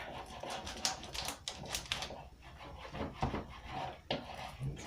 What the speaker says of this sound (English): a little rub down like this first